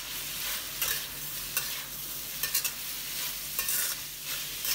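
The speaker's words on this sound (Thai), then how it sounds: "แล้วก็ให้เราผัดให้เข้ากันนะครับก่อนที่จะปรุงเครื่องนะครับ" Minced pork and bamboo shoots are stir-fried in a pan with holy basil, a steady sizzle running throughout with repeated scraping strokes of a spatula, close and moderately loud, no voices.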